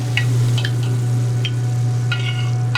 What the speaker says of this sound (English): I'm going to crisp up the prosciutto